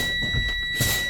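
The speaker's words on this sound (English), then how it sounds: "The alarm come on, I see the warning lights, I see the buzzer." A low air pressure warning buzzer on a 2024 school bus sounds as a steady, continuous electronic tone held at an even level through the whole moment, with faint rumbling and handling noise beneath it.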